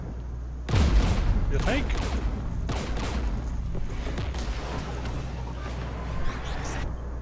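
Sustained bursts of gunfire in Mass Effect 3 during a fight against Geth forces, loud and continuous under a brief spoken line, with a heavy boom at the start.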